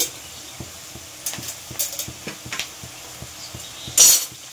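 Chopped cabbage and green chillies are stir-fried for mutton chowmein, a spatula scraping and knocking against the pan in an uneven rhythm over a faint sizzle, ending in a louder burst, close by with no voices.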